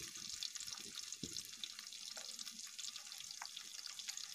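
Onion and garlic sauté in hot oil in a pan, giving a faint, continuous sizzle and crackle with small pops and clinks.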